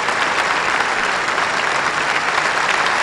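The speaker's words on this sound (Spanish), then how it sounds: "bajo un aplauso por parte de los legisladores y público presente" Legislators and members of the public applaud at Uruguay's 2005 presidential inauguration, a dense, continuous wash of clapping from a large crowd, loud and even throughout.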